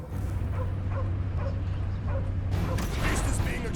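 A dog in the Guardians of the Galaxy video game gives repeated short yips and whimpering barks over a low mechanical hum, then a louder burst of game sound effects near the end, with a voice briefly mixed in.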